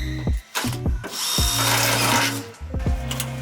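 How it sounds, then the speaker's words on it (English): An electric drill whirs in bursts, spinning up and drilling holes in a Toyota AE86 roll cage, with brief pauses and clunks between runs; loud and close. "Drilling holes."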